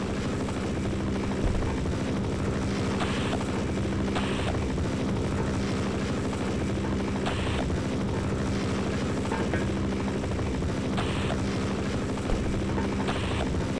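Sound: helicopter flying in video game Half-Life mod Heart of Evil

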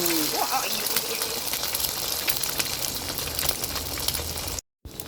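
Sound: egg frying in a pan

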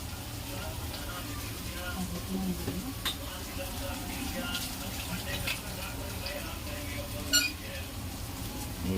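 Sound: mixing salted jackfruit vegetable in a pan

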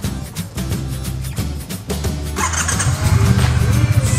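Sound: Triumph T120 motorcycle engine revving

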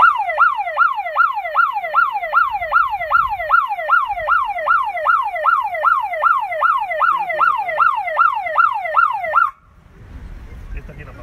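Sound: security alarm siren activated as a test

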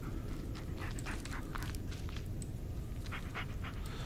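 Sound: dog panting in video game Blair Witch

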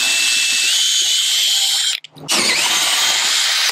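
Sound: drilling pilot hole through boat fiberglass

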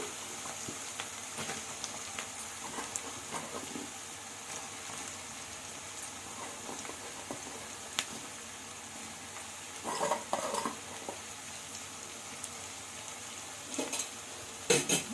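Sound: onions and eggplant cooking in a pan

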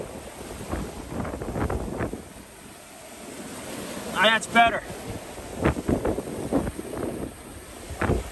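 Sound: strong wind gusts on a beach during Tropical Storm Alex

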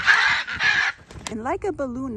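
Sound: pet birds screaming

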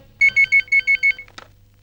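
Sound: telephone ringing

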